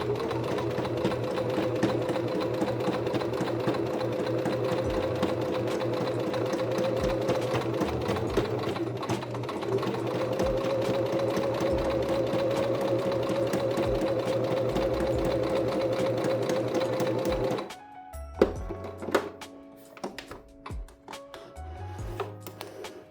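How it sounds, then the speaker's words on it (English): A sewing machine runs steadily for about eighteen seconds, stitching fabric squares together, its whirring motor close and continuous before stopping, followed by a few faint handling knocks. "So I'm going to sew them together"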